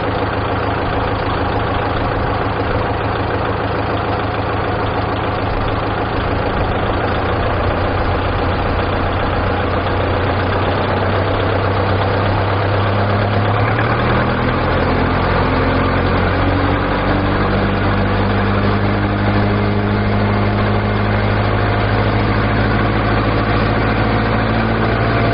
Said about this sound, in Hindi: अब हम इसके जो आरपीएम है वो बढ़ाते हैं।